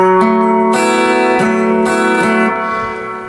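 Electric guitar picking an arpeggiated part from a song, clean sustained notes ringing over each other in a steady sequence, close and loud, with no talking.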